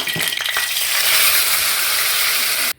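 Crushed paste pours into hot oil with spluttered mustard seeds, a few sharp pops giving way to a loud, steady sizzle that cuts off abruptly.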